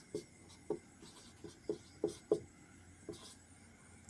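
Chalk or marker strokes on a board during a maths lesson on integration, a series of short scratchy taps and scrawls at an uneven writing rhythm, close and moderately loud, with no talking.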